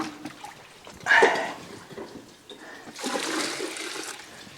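Coolant gushes and trickles out of a 1980 Peterbilt 359 truck during a service, in two close bursts of splashing liquid with a quieter dribble between them.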